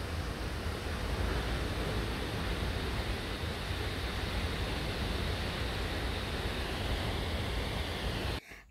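Ekom Nkam twin waterfalls in Cameroon roar loud and steady, a dense unbroken rush of falling water close by that holds level throughout and cuts off abruptly at the very end.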